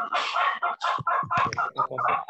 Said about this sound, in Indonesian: Ayamnya lagi.